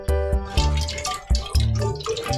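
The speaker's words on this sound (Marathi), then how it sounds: "तिथे एक वाटी साबुदाण्यामध्ये पाणी टाकून हे पाणी आपल्याला काढून घ्यायचं आहे" Water is poured off soaked sabudana (sago pearls) in a bowl, heard as several close, splashy pouring and dripping bursts with brief gaps between them.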